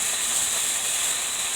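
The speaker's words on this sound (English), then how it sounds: "Still hear that sizzle." Pork chops sizzle in a frying pan, a close, steady hiss of hot fat that runs unbroken and fairly loud from start to finish.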